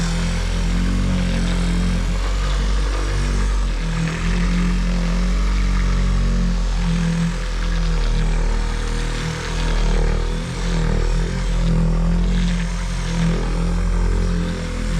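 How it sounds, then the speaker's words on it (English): Car paint polishing machine running on a car's painted surface, a loud continuous motor drone with a low hum, slowly rising and dipping as it moves in overlapping passes. "So we're gonna go ahead and turn on the machine now."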